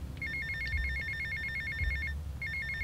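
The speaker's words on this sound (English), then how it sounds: "it's going to force me to answer the phone first" A phone in Grand Theft Auto: Vice City rings in a rapid electronic trill, one long burst then a short pause before it starts again, over a low background hum.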